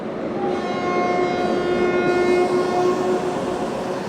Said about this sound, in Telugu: అక్కడ ఒక ట్రైన్ వెళ్తుంది చూసారా, అదే తిరుమల ఎక్స్ప్రెస్